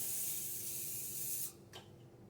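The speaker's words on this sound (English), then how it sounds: "I'm going to spray my pan." A steady cooking-spray aerosol hisses onto a pan for about a second and a half, then cuts off, followed by a faint brief hiss.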